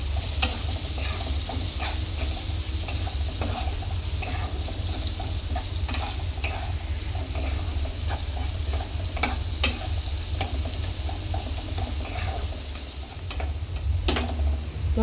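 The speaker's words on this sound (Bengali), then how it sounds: "এবার আমি এটাকে দিয়ে ভালো করে কষিয়ে নেব।" Chili, cumin and turmeric spice paste fries steadily in a pan for egg tarka, a continuous close sizzle with scattered ticks and clinks of stirring, no voices.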